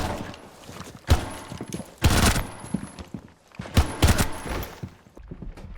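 Video game gunfire comes in several loud, rapid bursts of shots spaced a second or so apart, with a faint voice between them.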